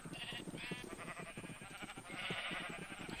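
Sheep in the video game Minecraft bleat in short wavering calls, several overlapping bleats heard up close over a quiet game background.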